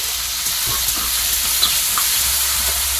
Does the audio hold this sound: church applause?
no